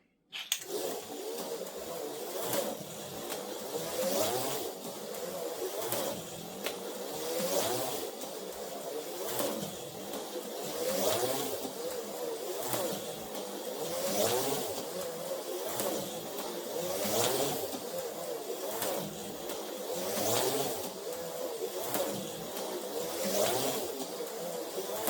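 Autoworld Datsun 510 X-Traction HO slot car running on track, a continuous whirring motor buzz with rhythmic surges as it laps, steady and fairly close with no talk.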